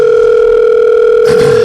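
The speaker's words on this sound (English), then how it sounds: "Hey, look at that. Phone's ringing." A loud, steady electronic telephone tone sounds continuously, with a brief burst of noise near the end.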